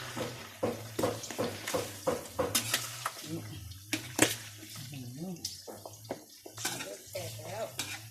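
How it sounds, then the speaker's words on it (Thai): A utensil stirs pork rinds frying in rendered pork fat, giving clattering scrapes against the pan over a sizzle, while someone speaks nearby. "ขอคนก่อนนะคนสักหน่อยนี่ครับผม"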